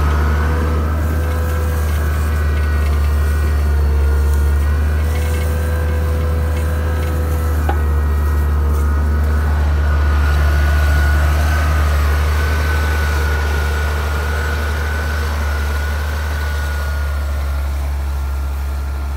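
A Mercedes 8x4 truck engine runs at a steady low rumble for the whole stretch, close and loud, with a constant drone, faint mechanical whine and no talking, while the truck works a field with a rotary plough.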